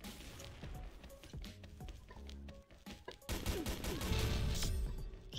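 Rapid semi-automatic sniper rifle fire in the shooter game XSHOT, a string of sharp shots in quick succession over busy game noise, growing louder toward the end.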